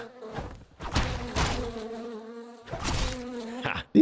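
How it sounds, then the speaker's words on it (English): Wasps in the video game Two Worlds II buzz close and loud in several swelling bursts with short quieter gaps and no speech. "These wasps are giving me quite a bit of experience points too."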